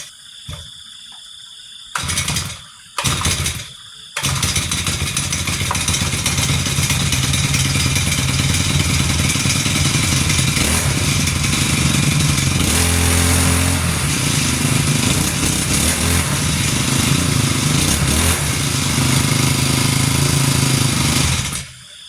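A small garden-tool engine is pulled a couple of times with short coughing bursts, then catches and runs loudly and steadily up close with a rough, buzzing idle. It keeps going for most of twenty seconds before cutting off.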